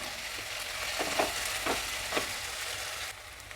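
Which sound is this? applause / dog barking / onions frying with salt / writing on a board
onions frying with salt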